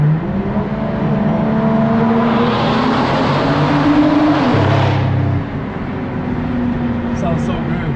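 BMW 335i engine and exhaust heard from outside the car, a loud sustained drone with a rising rev that drops off near the middle, then settles into a steadier hum.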